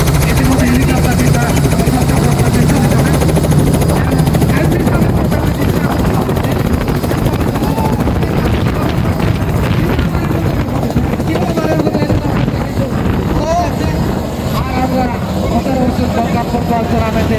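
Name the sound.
helicopter landing on village football field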